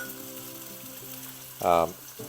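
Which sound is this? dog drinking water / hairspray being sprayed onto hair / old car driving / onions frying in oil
onions frying in oil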